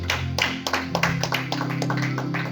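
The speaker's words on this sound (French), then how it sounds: "On acclame le Seigneur d'abord pour la gloire de notre Dieu." A church congregation claps in quick, rhythmic strokes over a steady tonal backdrop of music or voices, close and fairly loud throughout.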